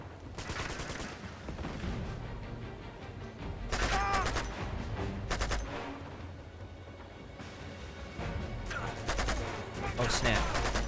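Blind fire in the video game Uncharted 2, repeated bursts of gunshots and rapid automatic fire over a continuous game soundscape, with a player talking at times.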